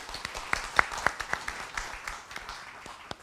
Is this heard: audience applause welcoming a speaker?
yes